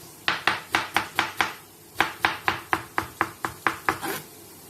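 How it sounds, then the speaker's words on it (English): Knife chopping a cucumber into small pieces on a board, two quick runs of about six and nine crisp, evenly spaced cuts with a short pause between, close and clear with no talking. "So now we have to start to cut the cucumber."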